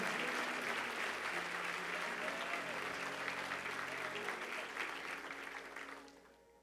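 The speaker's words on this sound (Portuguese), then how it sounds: "Você pode dar uma salva de palmas?" A church congregation applauds steadily for a pastor, a dense wash of clapping with faint voices mixed in, fading out over the final second.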